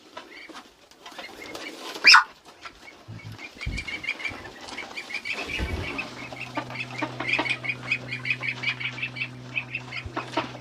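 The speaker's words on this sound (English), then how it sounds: "The ducks are peaceful" Ducks shuffle about and flap their wings on a forest homestead, with a sharp burst of flapping near the start, then steady rustling and scattered bird calls, close by with no talk.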